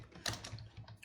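Quick, close clicks of typing on a computer keyboard, a handful of keystrokes in a brief burst with no talking.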